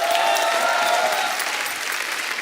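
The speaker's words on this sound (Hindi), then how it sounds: "सबके लिए जोरदार ताली" A TV comedy show studio audience applauds, a dense burst of clapping that fades slightly toward the end.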